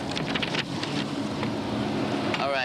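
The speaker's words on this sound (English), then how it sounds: "It's probably a storm coming in" Stormy weather with gusting wind and rain makes a dense, continuous roar that stays loud and close throughout, with no voices.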